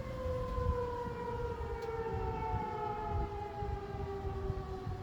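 Civil defense tornado sirens wail continuously for the whole stretch, their steady rising and falling tones carrying loud across town over a low rumble of background noise.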